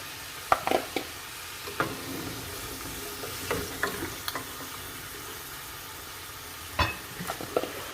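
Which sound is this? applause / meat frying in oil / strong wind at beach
meat frying in oil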